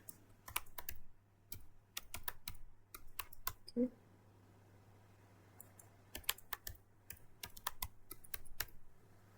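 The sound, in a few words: typing a password on a computer keyboard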